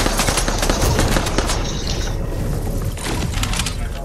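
Dense, continuous gunfire and impacts from the Fortnite video game, with a pistol among the weapons, loud and unbroken throughout with a slight lull near the three-second mark.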